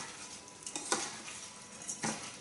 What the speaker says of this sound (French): J'y vais avec les mains. Vous mélangez tout